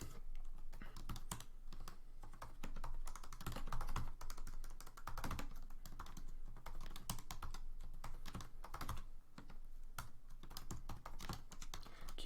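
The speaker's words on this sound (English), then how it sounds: "So in this case, I'm going to type these out." Steady, fast typing on a computer keyboard while entering HTML, with close, even key clatter running continuously and no talking.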